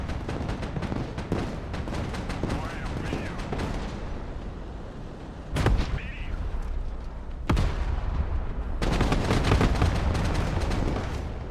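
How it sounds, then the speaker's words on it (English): Artillery shells land in the tank-battle video game Broken Arrow, with a dense run of heavy booms and blasts. A few louder impacts stand out near the end, and a voice talks over the battle noise. "Too much, taking more artillery looks like."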